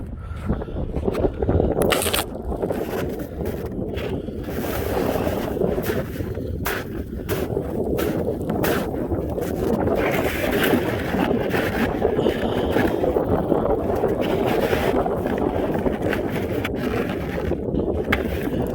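Steady wind buffets the microphone on open Arctic tundra, a continuous loud rushing roar with gusty surges throughout, no voices present.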